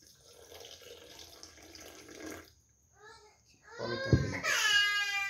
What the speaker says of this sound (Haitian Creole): Bien, on met de l'eau.